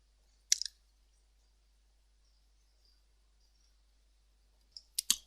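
Mouse clicks on a computer, one crisp click near the start and a quick cluster of two or three clicks at the end, close and sharp over near silence.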